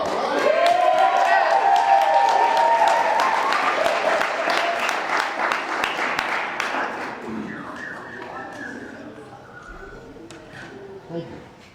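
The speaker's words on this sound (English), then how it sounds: "Let's start with a big round of applause" Audience applause at a poetry slam, loud and sustained from the start and slowly fading over about eleven seconds, with whoops and cheers mixed in and some voices under it.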